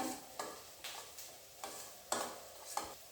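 Chilli chicken with onions, chilli sauce and soy sauce is stirred in a pan: a quiet, steady series of about seven soft scraping strokes over a faint sizzle, close by with no talk.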